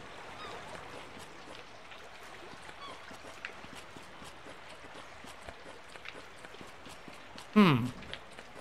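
Steady rain hisses through the Summer in Mara video game, a soft even wash of noise with one short, louder burst of sound near the end.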